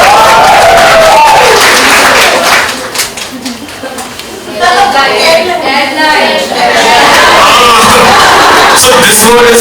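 An audience applauds and cheers for a woman at a design show event, loud sustained clapping with whoops and yells, dipping briefly in the middle, while a host talks over the noise.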